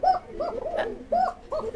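Pigeons cooing close by, rolling throaty coos repeated in a steady rhythm, with no voices.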